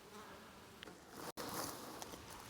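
A honeybee swarm being collected into a box hums steadily, a dense continuous buzz with individual bees passing close now and then, fairly soft overall.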